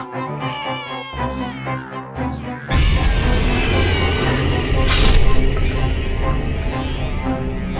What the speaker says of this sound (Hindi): बच्चों के रोने की आवाज, हम डायन के घोंसले के करीब हैं।